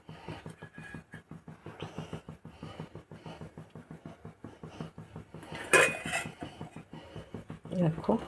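Spiced eggs, fried with Kashmiri chili and turmeric, are set one at a time into a metal tiffin box, giving a quick series of light clinks and knocks, with a few sharper metallic clatters later on.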